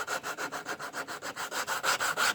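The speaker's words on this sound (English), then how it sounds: "So now we're sanding the top out." Steady back-and-forth sanding strokes on the wooden top of a ukulele kit, about a dozen even passes, close and rhythmic, with no voices.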